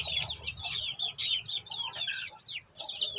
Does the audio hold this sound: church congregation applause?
no